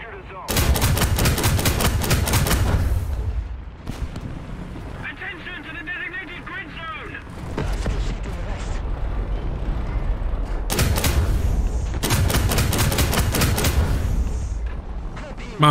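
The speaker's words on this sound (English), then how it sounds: "there's several of them shooting at me" Heavy gunfire in War Thunder as several enemies fire on the player's tank: loud, dense bursts of rapid shots crackle at the start, drop into a quieter rumbling stretch, then erupt again in repeated volleys.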